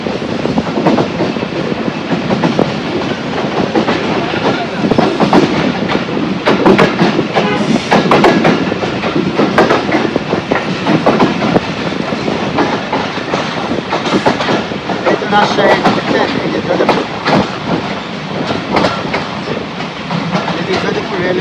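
Joydebpur commuter train rolling on rails near Joydebpur junction station, a steady loud rumble with rhythmic clickety-clack of wheels over joints throughout, with a brief word spoken over it.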